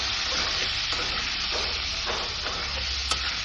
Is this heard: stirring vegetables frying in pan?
yes